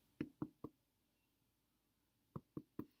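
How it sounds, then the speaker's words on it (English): Freshly baked soda bread knocked on with the knuckles, giving three quick hollow raps, a long pause, then three more, close and fairly quiet with nothing else heard. "If it's finished, it should sound like knocking on a door."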